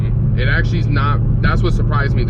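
A cammed 2015 Chevrolet Camaro SS 1LE cruises in sixth gear at about 70 mph, heard from inside the cabin as a steady low engine drone beneath someone talking throughout.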